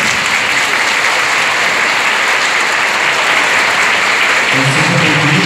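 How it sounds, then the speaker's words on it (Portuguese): A church congregation gives a bishop a sustained, loud burst of applause, dense clapping filling the hall evenly throughout. "Uma salva de palmas."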